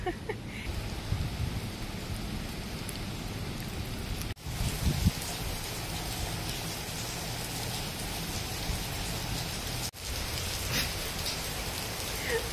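Steady rain falls on Langkawi, a dense, even hiss heard alone, broken by two brief dips.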